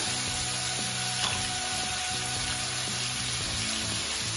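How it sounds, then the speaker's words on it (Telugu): Ginger-garlic paste with turmeric and salt frying in a pan for a prawn masala curry, a steady even sizzle that stays constant throughout with a faint tap of a utensil, and no voices. "1/2 స్పూన్ అల్లం వెల్లుల్లి పేస్ట్ వేసుకొని వేయించుకోవాలి."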